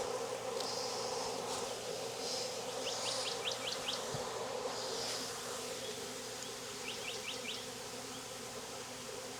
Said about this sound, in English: There's just too many bees.